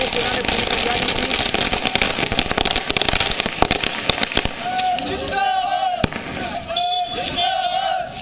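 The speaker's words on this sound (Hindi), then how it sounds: "ये सुबह सुबह आप लोगों ने पटाखे फोड़ने शुरू कर दिए" Firecrackers burst in rapid sharp cracks during an early-morning street celebration of Indian airstrikes on Pakistan, against a dense noisy crowd backdrop with voices talking and calling out.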